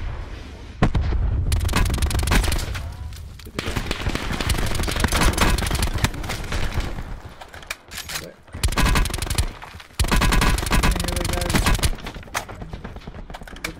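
Rapid automatic gunfire from Call of Duty Blackout, loud and dense in long bursts with brief gaps, mixed with other shots and impacts, with a player's voice speaking over the battle.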